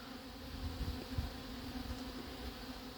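Dense swarm of honeybees buzzing steadily at a hive, recovered from a swarm in Orly, a loud continuous drone with no voices.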